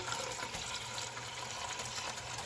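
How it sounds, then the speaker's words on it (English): Water runs steadily from a tap into a pitcher in a home kitchen, a constant moderate splashing hiss that holds even throughout. "A pitcher full of water."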